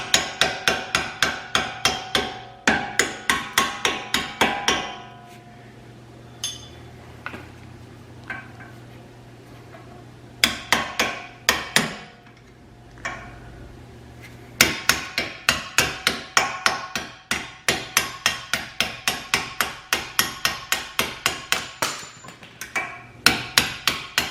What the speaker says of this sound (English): Couple more taps.